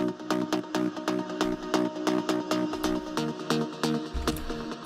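Trance synth sample played dry with its saturation bypassed: a chopped, rhythmic run of bright stabbed chords over a low bass line, even and moderately loud with no voices.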